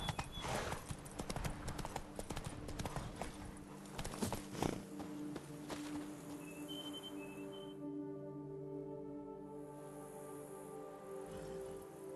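Horse hooves clip-clopping in The Witcher 3: Blood and Wine, a quick rhythmic run of clear hoof strikes for the first few seconds. The hooves then fade under a soft game music bed with a brief whistling tone, and there is no speech.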